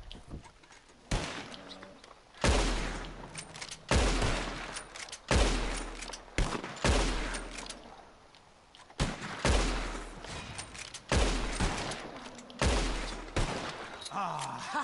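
Repeated gunshots fired at birds in Red Dead Redemption 2, loud sharp reports about once a second with a few quick doubles, each trailing into a brief echo over open outdoor ambience.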